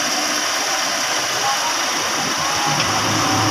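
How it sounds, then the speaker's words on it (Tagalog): A 2021 Toyota Vios dual VVT-i engine, undergoing a CVT transmission fluid change, runs steadily as a constant broadband hum with a faint rumble, close and continuous throughout. "paanda rin natin yung engine para pumasok na doon sa loob sa torque converter yung bagong langis"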